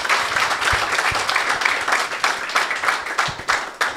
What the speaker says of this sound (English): Guys, round of applause, please, for Winston.